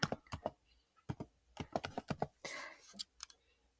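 Computer keyboard typing up close, a string of crisp, irregular keystrokes with short pauses and a denser, longer press in the middle, with no voices.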